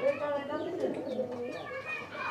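Domestic pigeons give soft, rolling coos, close by, in a short burst where the bird calls dominate and little else is heard.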